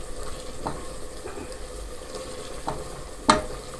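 Black chickpeas roast in oil in a pan for kala chana curry, a low steady sizzle broken by a few scraping stirs and a sharp metallic clink near the end, no talk.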